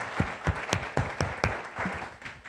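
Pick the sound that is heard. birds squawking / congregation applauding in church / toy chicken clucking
congregation applauding in church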